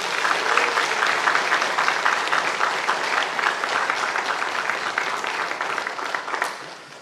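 A church congregation claps steadily to congratulate and encourage a newlywed couple during a worship service, a dense, continuous round of applause at close range that tapers off in the final moment.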